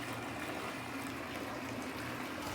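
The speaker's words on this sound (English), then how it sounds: "We are now running the water so she can have a nice bath." Steady water running into a bath as it fills, a continuous close hiss and splash with no voices.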